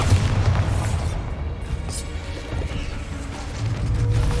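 The Bombarda explosion spell goes off in Hogwarts Legacy, a loud, dense booming crash with heavy low rumble that swells at the start and end and stays continuous throughout.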